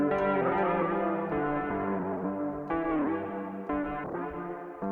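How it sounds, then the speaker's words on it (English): Reverb from the Baby Audio Crystalline AUv3 plugin on iOS spreads over sustained, gliding pitched tones, building a shimmering wash that keeps restarting and slowly fades over several seconds. "this is the end of the reverb, so the start and the end"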